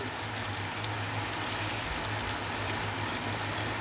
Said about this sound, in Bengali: পাতলা করে নিলে এবার এপিট ওপিট করে এটাকে ভেজে নিলে